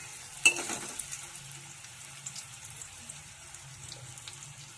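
Bitter gourd pieces frying in oil until reddish, a quiet steady sizzle with a sharp clatter near the start and light stirring scrapes, faint and fairly distant.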